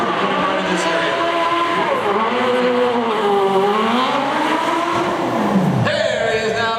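A stunt hero car revving and sliding with sustained tire squeal, the engine pitch rising and falling through the maneuver, loud and close throughout before a sharp change near the end.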